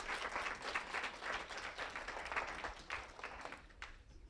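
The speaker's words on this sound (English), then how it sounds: "Can we give everybody a round of applause?" A seated audience claps in a steady round of applause at a campus conversation event, the dense clapping fairly distant and soft, tapering off near the end.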